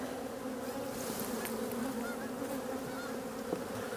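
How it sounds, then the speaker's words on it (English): A dense, steady hum of many honey bees buzzing together as they are shaken from frames during a hive split, close by and constant, with no voices. "I'm gonna shake a bunch of bees in there too."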